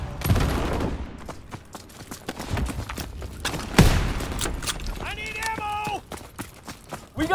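Bursts of rifle and machine-gun fire in a World War II shooter, sharp cracks scattered across the clip with a louder shot near the middle, mixed with shouting voices and a brief tonal game cue toward the end.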